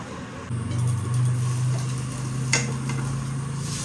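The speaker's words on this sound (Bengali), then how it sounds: "ডিমের অমলেটের ঝোল করব তার জন্য ডিমটা ভাজতে দিয়েছি" Egg frying in a covered pan for an omelette curry, a steady low sizzle and hiss that holds evenly throughout, with one brief clink partway through.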